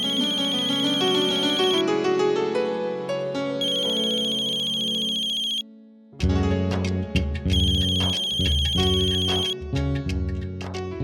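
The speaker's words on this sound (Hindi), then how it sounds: "अरे फोन तो उठाइए।" A phone ringtone plays a bright electronic melody, pausing briefly and then starting again, loud and clear with no talking over it.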